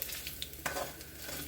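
Onions sizzling and frying in an overheated pan, a steady bright hiss with stirring scrapes and a sharp clatter partway through, close and alone without talk.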